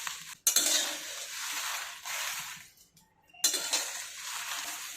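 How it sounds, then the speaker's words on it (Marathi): Spices stir-roasted in a hot kadai with the gas turned off, a spatula scraping and clinking against the pan in repeated strokes with brief pauses, the roasting faint and close. "कढई गरम आहे त्याच्यातच मी आता हे परतून घेणार आहे"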